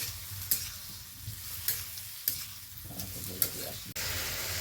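Spice paste for a drumstick curry fries in a pan with a steady low sizzle, punctuated by sharp scrapes and clacks of a stirring spoon recurring every second or so.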